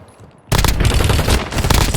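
Sustained burst of automatic gunfire in Call of Duty Warzone, erupting suddenly after a quiet lead-in and staying loud and dense to the end, with rapid overlapping shots.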